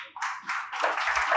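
Hand clapping from a group rises in a few quick bursts, then settles into steady, faint applause with no voices over it.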